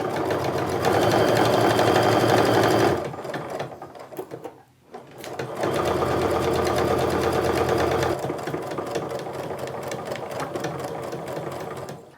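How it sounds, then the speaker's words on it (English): Sewing machine stitching a quarter-inch seam across the top of a sling bag, a steady rapid mechanical whir that pauses briefly midway, then resumes, close and loud with no talking. "Now I'm going to sew a 1/4 inch seam across the entire top of my piece"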